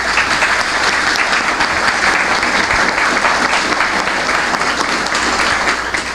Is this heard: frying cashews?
no